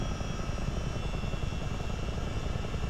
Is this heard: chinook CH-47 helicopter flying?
yes